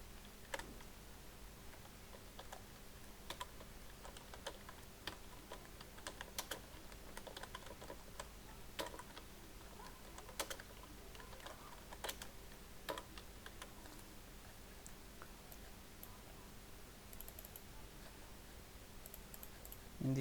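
Steady, quiet typing on a computer keyboard while filling out a data-entry form in a spreadsheet, soft irregular key clicks running continuously with a faint electrical hum beneath.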